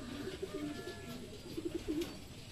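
A racing pigeon coos softly in two short rolling phrases, close by, over steady outdoor background noise.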